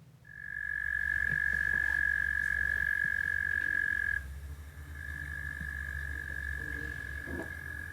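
A frog or toad gives a long, steady, high-pitched trill that holds for several seconds, breaks off briefly, then resumes just as evenly over a low background rumble.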